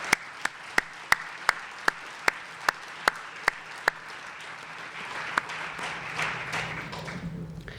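A single person claps about a dozen times in a steady, evenly spaced rhythm at a film screening, then stops, leaving quiet room murmur.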